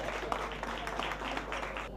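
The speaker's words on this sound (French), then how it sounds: "On va applaudir très fort" A crowd applauds at the Diaspocam 2016 awards ceremony, marking its fifth edition, with a fairly soft, continuous spread of clapping and a faint low hum running underneath.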